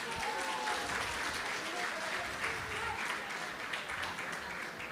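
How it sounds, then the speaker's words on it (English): A crowd claps in a dense, sustained round of applause, steady and fairly loud throughout. "Let's give them a huge round of applause."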